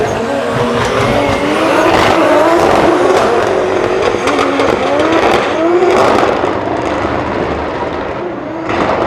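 A drift car makes a solo practice run at Drift Masters in Germany, its engine roaring loud and continuous with rising and falling revs and tire squeal throughout.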